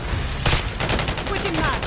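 Gunfire in Modern Warfare 3: a sharp loud shot followed by a quick string of repeated rounds, close and dominant over the game's background.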